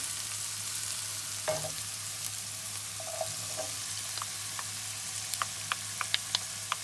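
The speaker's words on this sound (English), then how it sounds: "So now we saute it a little bit, and then we will add in our peppers so that everything can saute together" Onions sautéing in a hot pan before peppers go in, a soft continuous sizzle with a few scattered clicks and light taps of a utensil stirring, close and unaccompanied by speech.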